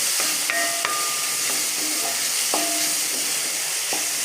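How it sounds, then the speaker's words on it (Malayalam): Onions frying to a brown colour sizzle with a constant bright hiss in a pan, broken by sharp metallic clinks and scrapes of a ladle stirring them; close, with no voices. "നന്നായി ഇളക്കി കൊടുത്ത് ഒരു ബ്രൗൺ കളർ ആവുമ്പോൾ നമുക്ക് കോവയ്ക്ക ഇട്ട് കൊടുക്കാം ഉള്ളി അത്യാവശ്യം മൂത്തിട്ടുണ്ട്"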